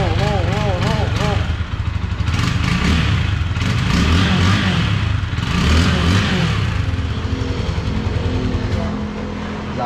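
A fake Ducati motorcycle revs up loudly nearby, its engine rising and falling in a rough roar, with people talking over it throughout.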